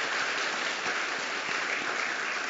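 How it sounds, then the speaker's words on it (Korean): A congregation at a Christmas worship service breaks into a dense, even wash of applause that holds steady and full throughout. "우리 하나님께 박수로 영광 돌리겠습니다"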